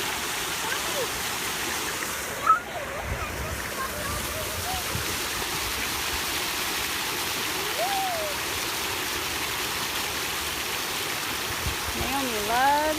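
Steady rushing flow of a stream runs through the whole stretch, broad and continuous, with a brief splash near the start and faint chirps and voices in the background.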